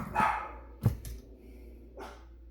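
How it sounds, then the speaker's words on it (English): Dogs barking inside a home, a few separate barks spread over a couple of seconds, moderately close and fairly quiet, with no talk over them. "Sorry about the dogs."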